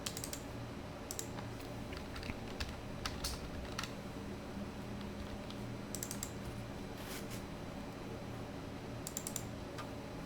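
Quick, light clatter of fingers typing text on a computer keyboard, a close, soft stream of key clicks over a low hum, with no talking.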